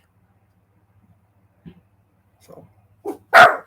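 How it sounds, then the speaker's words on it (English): A dog barks in a quiet setting: a few soft, scattered yips and woofs build to one loud, close bark at the end, separated by near silence. "and then there goes the dogs"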